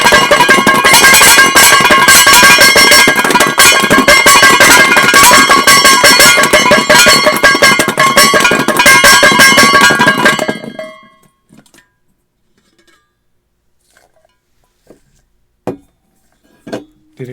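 Garlic cloves shaken hard between two metal bowls make a loud, dense metallic rattling for about ten seconds, then stop abruptly, leaving near silence with a few faint knocks.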